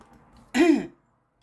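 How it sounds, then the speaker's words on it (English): A single harsh throat clear bursts out close and loud after near silence, brief and rasping before cutting off. "I got into a coughing fit, guys."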